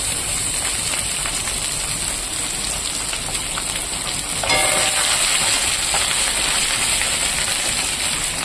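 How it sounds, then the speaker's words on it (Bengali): Chopped ginger dropped into hot oil sizzles with a dense, rain-like hiss that swells a little louder about halfway through and stays steady and close, no talking. "এবার আমি আদাটা দিয়ে দেবো"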